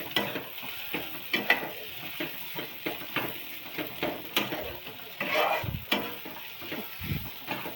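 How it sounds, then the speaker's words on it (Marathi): Green chili kharda (thecha) being sautéed in a pan at home, a soft steady sizzle punctuated by repeated scraping and stirring strokes of a utensil against the pan, close and fairly quiet with no talk. "मस्त असा परतून घ्यायचं. झाला आपला खरडा तयार."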